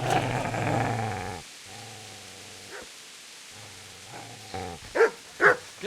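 Game dog in Kingdom Come: Deliverance growling and snarling at a man, a low sustained growl early on, then quieter rumbling with a few sharp bark-like bursts near the end.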